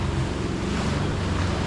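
A jet ski rides over large ocean waves, with constant roaring wind and water rush dominating throughout and no voices heard.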